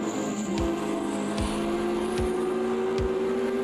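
Car-to-car contact in the Automobilista 2 racing sim during a league race: a few dull low thumps recur roughly every second under a steady, loud engine drone.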